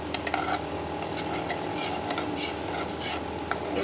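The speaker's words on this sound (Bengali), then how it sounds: "তেলের মধ্যে এই ময়দাটাকে আমি নাড়িয়ে নিচ্ছি।" Steady scraping and stirring of flour with burnt biscuit crumbs in hot oil in a pan, a soft continuous rubbing with light sizzle and occasional utensil clinks, close and fairly quiet with no talking.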